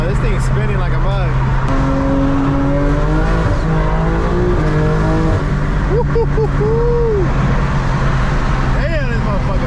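A BMW M4 with a JB4 tune accelerates hard, its engine droning loud and steady with rising revs under excited talk, heard from inside the car.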